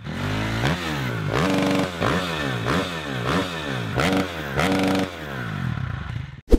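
An MXF 250 TSX dirt bike engine revving repeatedly, each rev rising and falling in a steady rhythm, close and loud.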